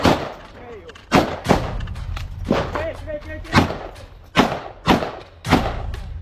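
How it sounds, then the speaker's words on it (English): Grenades go off inside a building during a street assault in the Ukraine war, several sharp heavy blasts spaced a second or so apart, with voices talking between them. "hurling more grenades into the building."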